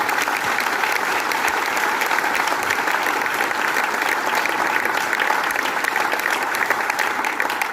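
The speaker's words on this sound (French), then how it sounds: "Je pense que vous pouvez vous applaudir et les autres peuvent les applaudir aussi." A crowd at the launch of a village song festival in Guipry-Messac claps in a loud, sustained, even wave of applause with no speech over it.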